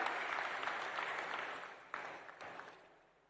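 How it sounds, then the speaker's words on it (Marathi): Applause from an audience at an award ceremony held by a service trust, a sustained wash of clapping that swells again briefly before gradually fading toward the end, fairly soft and distant. "जोरदार टाळ्या सरांसाठी व्हायला हव्या."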